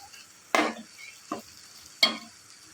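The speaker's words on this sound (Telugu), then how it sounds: "ఇప్పుడు చివరిగా కొద్దిగా కరివేపాకు వేసుకుని ఒక 5 మినిట్స్ ఫ్రై చేసుకోవాలి." Chicken liver frying with curry leaves in a pan, three separate scraping strokes of a spoon over a soft, continuous sizzle, close and quiet, without talk.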